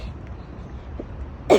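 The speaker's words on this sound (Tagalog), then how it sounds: "Inuubo pa ako." A single short cough from a person outdoors on a warm day crossing a street near a large church in Osaka, loud and abrupt at the very end after quiet ambient street noise.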